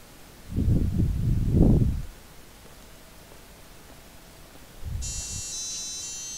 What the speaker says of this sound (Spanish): Perdón, la alarma del relojito.